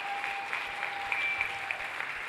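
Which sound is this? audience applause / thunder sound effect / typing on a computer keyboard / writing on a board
audience applause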